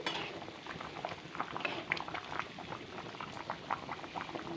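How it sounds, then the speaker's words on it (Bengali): A pot of beef curry bubbles in its broth after the meat has been browned, with a close, continuous burble and scattered popping bursts and faint clinks, and no voices. "গরুর মাংসটা কিন্তু আমি কষায়ে আর কি ঝোল দিয়ে দিছি"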